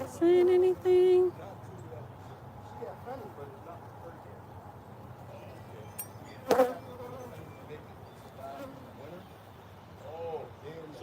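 Honeybees buzzing near and around an open hive, a soft continuous drone with a couple of louder passes, mixed with outdoor background noise.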